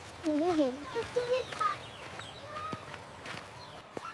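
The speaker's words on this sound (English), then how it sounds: "Listen to the loud songs. The birds are singing happily." Several short chirping bird calls rise and fall near the start, then fade into quieter scattered tweets against a soft background.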